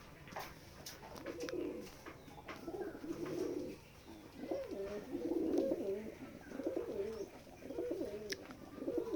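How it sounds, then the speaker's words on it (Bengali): Pigeons cooing on a farm in winter, a steady run of low, repeated coos from several birds close by, with a few sharp chirps and rustles over it. "আমাদের এই কবুতরগুলো দেখতে পাচ্ছেন অনেকটাই চঞ্চল আছে।"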